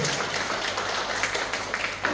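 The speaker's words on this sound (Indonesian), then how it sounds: "Boleh tepuk tangan saudaraku." A church congregation applauds during a sermon, a steady wash of clapping from many hands filling the room at moderate volume with no clear break.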